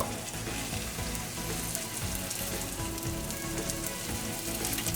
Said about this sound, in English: I'm going to let it fry for a little